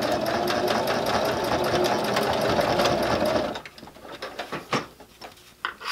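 A sewing machine stitches through a fabric basket with a fast, even mechanical rattle for several seconds, then stops, followed by a few soft clicks and taps nearby.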